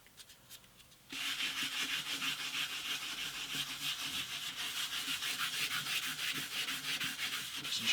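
Hand sanding with 1500 grit sandpaper across the French polish finish on an antique parlour guitar: steady, close rhythmic rubbing strokes that begin after a brief quiet start and continue evenly throughout.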